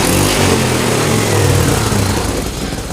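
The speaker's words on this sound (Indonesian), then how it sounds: "Namun saat digas dia naik ya," A Honda Vario 125 scooter with a faulty, unsteady idle revs loudly and close up as the throttle is opened, its engine note rising and holding throughout, with no talk.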